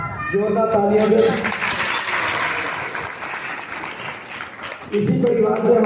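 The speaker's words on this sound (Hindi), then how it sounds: "जोरदार तालियां दे।" Steady crowd applause at a Guru Purnima festival gathering, sustained clapping for several seconds, with someone speaking over it at the beginning and end.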